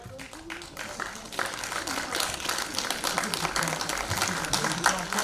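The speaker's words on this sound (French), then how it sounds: "Sous vos applaudissements" An audience applauds at the Diaspora Awards ceremony in Paris, a crowd clapping steadily under a voice that keeps talking throughout.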